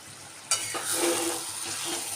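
A spoon stirs spicy loitta (Bombay duck) fish curry, oil-rich and thick, in a pan, giving a sudden scraping swish and then a steady close sizzle and shuffle with no talk.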